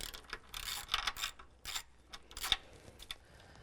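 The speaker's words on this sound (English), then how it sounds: "Take this 10mm off, sort of loosen that side, loosen this side." Ratchet wrench clicking as a 10mm nut is loosened on an alternator upgrade installation, with quick bursts of close, crisp metallic ratcheting separated by brief pauses and a faint mechanical background.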